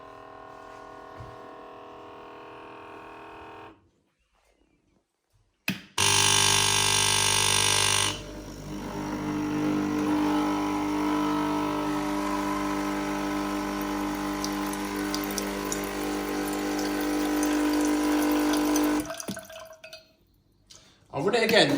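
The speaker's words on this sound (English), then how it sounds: "we'll press a shot of Lungo anyway and we'll just run some water through without any podding or anything." A Nespresso Creatista Uno runs water through a lungo cycle with no capsule, a loud steady pump hum and hiss lasting about eleven seconds after a click, then settling into a quieter flow before stopping.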